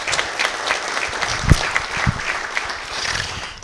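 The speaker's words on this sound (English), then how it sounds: "give a round of applause" Audience applause at a gang awareness information session, steady dense clapping from a seated crowd with a few sharper nearby claps standing out, no talking.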